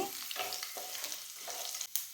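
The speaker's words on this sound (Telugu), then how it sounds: "ఆయిల్ వేడిన తర్వాత పోపు దినుసులు, వెల్లుల్లి రెబ్బలు, ఎండుమిరపకాయలు వేసుకొని వేయించుకోవాలి" Tempering spices, garlic cloves and dried red chillies frying in hot oil, a steady bright sizzle close by with occasional crackles and a spoon stirring through the pan.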